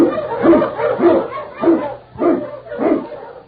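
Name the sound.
sled dog barking in old radio drama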